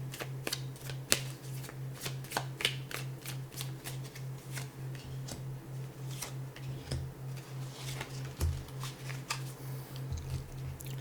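Tarot cards shuffled close up during an ASMR pick-a-card reading, a steady, continuous papery riffling with soft taps, alone over a low, faint background hum.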